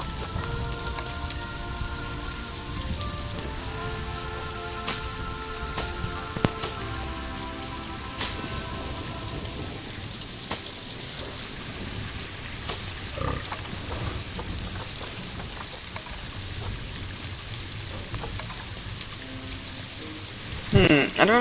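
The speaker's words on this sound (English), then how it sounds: "It's still raining, but like, it's alright, it's not that bad to be honest" Steady rain patters across a zoo habitat in the game Planet Zoo. Faint animal grunts and short tonal game sounds are heard through the rain, and a few louder clicks come near the end.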